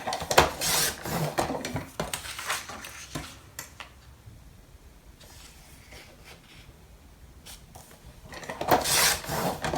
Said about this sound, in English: I'm just going to line up the tab, the score line on my tab, and trim it off